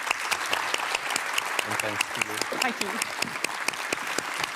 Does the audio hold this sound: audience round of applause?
yes